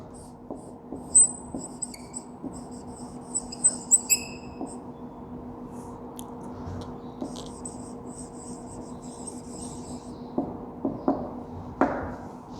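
Soft scratchy taps and squeaks of a marker writing on a board in a classroom lesson come in scattered bursts over a faint steady hum, with sharper squeaks near the end.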